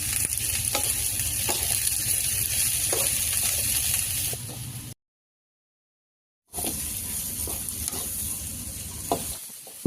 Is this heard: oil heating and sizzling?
yes